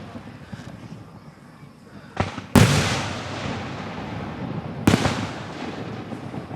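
Fourth of July fireworks at Gettysburg burst with two sharp, loud booms a couple of seconds apart over a low crowd murmur, each blast trailing into a rumbling decay.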